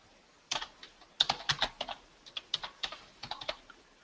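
Code being typed on a computer keyboard: close, irregular key clicks in quick bursts and short pauses after a brief quiet start, with no voice.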